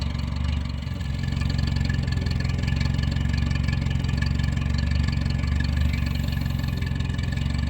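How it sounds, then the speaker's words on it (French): A car engine idles steadily at close range, a loud, even low rumble with a constant pulsing rhythm and no other sounds. "Lorsque le moteur est démarré"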